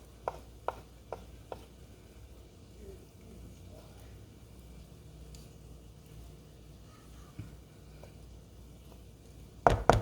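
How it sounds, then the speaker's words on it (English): A utensil scraped and knocked clean of mashed chickpeas and black beans, a few sharp taps at the start, quiet scraping through the middle, and a louder burst of clatter at the end. "So, I'm going to just scrape this off of here."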